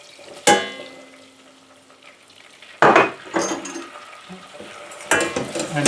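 A spoon stirring flour into melted butter in a hot pan, with sharp metallic clinks and scrapes against the pan at intervals and quiet sizzling and shuffling in between.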